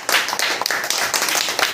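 Students in a classroom applaud classmates who got a spelling answer right, a dense, steady burst of many hands clapping at once, fairly close and filling the whole short moment without talk.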